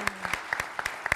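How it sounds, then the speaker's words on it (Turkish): A studio audience on a Turkish daytime talk show applauds a mother, a modest group of distinct, fairly quick claps, somewhat light and steady over a quiet background. "bu anne bir alkış"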